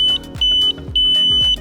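Electronic horn of a Ninebot Max G2 electric scooter sounding a series of short, loud, high-pitched beeps in an uneven rhythm, close by, with low rumbling noise in between.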